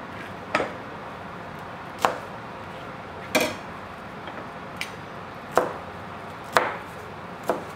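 A kitchen knife chops parsley and spring onion on a board, giving about seven sharp, separate taps at an uneven, unhurried pace, close and fairly quiet against a faint room hiss.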